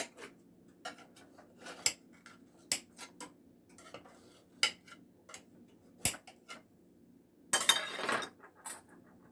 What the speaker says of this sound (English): I'll just take this knife and rub around the edges